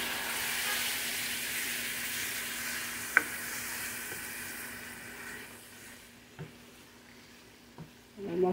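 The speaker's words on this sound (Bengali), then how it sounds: "এবার এটাকে আমি একটু ভালো মতো কষাবো" Ginger and garlic paste with spices fries and is stirred in a pan for chicken curry, a soft steady sizzle with a few clinks of the spoon, fading quieter toward the end.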